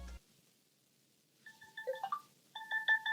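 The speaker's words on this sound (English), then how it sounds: "it kind of secures the Spark 7P by ringing an alarm when the charger is disconnected or when the earphones are unplugged" An anti-theft alarm on a Tecno Spark 7P phone rings when the charger is unplugged, a run of bright electronic tones in short repeated bursts after a brief quiet gap, moderately loud and close, with no talking.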